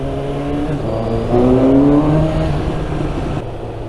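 A 2019 Suzuki GSX-S750 with a 750cc inline-four engine revs up and holds near the mic, a loud, smooth rising whine that swells midway and then settles, with no talking.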